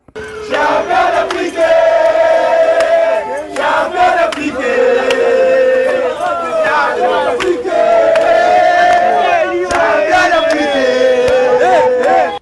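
Large crowd cheering and chanting loudly at an airport to welcome two Congolese ambassadors, with dense voices, whistles and horn-like tones sustained throughout.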